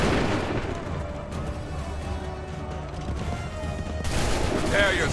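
Musket volleys in Assassin's Creed III, a dense crackling barrage with booming blasts over a noisy battlefield, loud throughout and swelling again near the end, with shouted commands mixed in.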